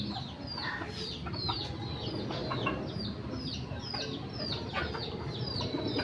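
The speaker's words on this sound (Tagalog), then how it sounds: "Medyo mailap lang mga sabong." Gamecocks cluck softly and repeatedly while feeding, short chirpy calls scattered throughout over a steady rustling background, with no talking.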